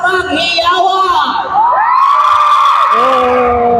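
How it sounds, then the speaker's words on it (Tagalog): A packed mall crowd at a celebrity tour cheers loudly, with high-pitched shrieks, whoops and yells swelling together, close and sustained through the whole stretch. "Palingan mo ko ng palakpakan niyo lahat na may kasamang hiyawan."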